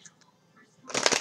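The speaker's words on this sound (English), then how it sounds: "Two more shuffles here for July for Leo 2018" Tarot cards being shuffled, a fairly close rapid riffling flutter that starts after a second of near quiet and continues steadily to the end.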